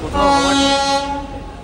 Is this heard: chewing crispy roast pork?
no